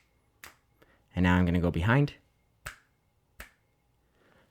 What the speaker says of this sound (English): I'm going to go ahead and snap on either side of the microphone and see how it picks it up.